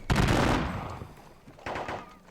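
Musket volleys in the Thirty Years War wargame at the Battle of Breitenfeld: a loud crackling burst of many shots that fades, followed by a second smaller volley.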